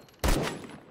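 A single gunshot in the video game ZERO Sievert: one loud, close, sudden blast that fades over a fraction of a second against a quiet background.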